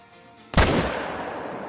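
A single loud rifle shot at a mule deer buck in the hunting game Call of the Wild cracks sharply after a quiet moment, then rolls off in a long fading echo.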